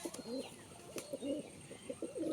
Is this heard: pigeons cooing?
yes